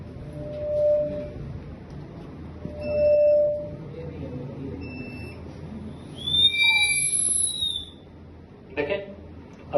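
Pressurized air safety equipment sounds its shrill warning whistle, a piercing high tone rising midway, after a few brief beeps and under low talk from people nearby.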